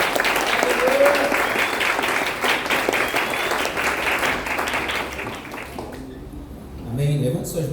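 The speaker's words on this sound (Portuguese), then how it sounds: "Uma salva de palmas ao Senhor Jesus." Church congregation applauding during a celebration service, a dense sustained wash of clapping that carries on loudly for several seconds before thinning out, with a voice speaking over the end.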